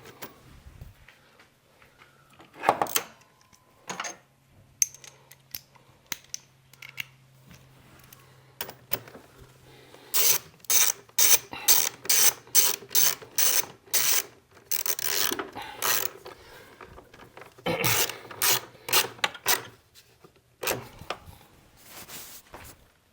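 A ratchet tightens a part back onto the OM642 diesel engine of a 2012-2016 Mercedes-Benz GL 350 during EGR valve work, giving bursts of quick, sharp metallic clicks in repeated strokes, close and fairly loud, separated by brief pauses and light handling noises.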